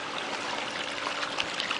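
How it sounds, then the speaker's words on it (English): Water flows out of a rooftop solar pool heater collector at about 20 gallons a minute, a steady splashing trickle into the pool area, continuous and fairly close, with no voices. "right there is the water coming out of the solar collector"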